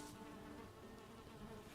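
Soft, steady buzzing of bees from beehives in the Valheim video game, a continuous faint drone with no pauses and no voices.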